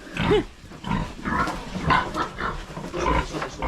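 A pig grunts in a pen, giving a run of low snorting grunts and a brief squeal, close by and continuous, with no talking.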